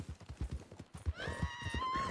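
Video game horse galloping with rhythmic thudding hoofbeats, joined midway by a loud, drawn-out whinny with a falling pitch, close and clear.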